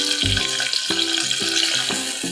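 Onion and curry leaves fry in hot oil inside a pressure cooker, giving a steady close sizzle with a few clinks and stirring knocks over about two seconds.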